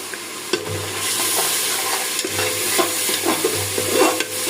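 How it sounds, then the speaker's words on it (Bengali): Spice paste for chicken curry, with chili powder mixed in, sizzles in a pan while a spoon stirs and scrapes it in steady, close strokes, no voices. "সম্পূর্ণ মশলাটা কষানো শেষ।"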